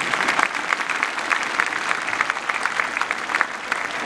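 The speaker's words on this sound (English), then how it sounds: "So dear parents, can you give a loud applause for all of our children?" Loud, sustained applause from a crowd of parents at a children's school event, dense steady clapping that fills the whole stretch with no speech over it.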